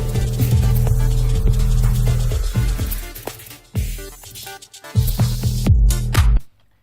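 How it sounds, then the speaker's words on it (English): Gated white noise in a music production mix, bursts of hiss opening and closing in time with a heavy bass-driven build, cutting in and out rhythmically before stopping abruptly at the end. "you can hear that the white noise isn't on permanently, it's only kicking in when the sound is there."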